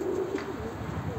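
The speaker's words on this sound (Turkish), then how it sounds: "Evet arkadaşlar, kuşlarımız cıvıl cıvıllar." Pet birds being fed, giving soft cooing and faint chirps over a steady low background murmur, fairly quiet and continuous with no talk.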